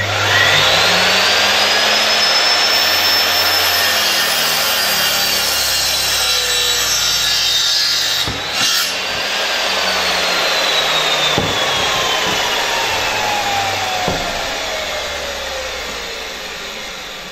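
A power saw cuts material held against a locked 90-degree fence, a loud, continuous whine and grinding rasp that runs through the whole cut, with shifting motor pitch and a few knocks as it winds down.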